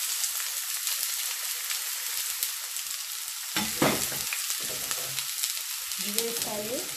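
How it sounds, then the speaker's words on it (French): Onion frying in oil in a pan: a soft, steady sizzle runs throughout, with a few stirring clatters and scrapes near the middle and a faint voice or clink toward the end. "Dans ma poêle, j'ai versé 2 cuillères à soupe de l'huile."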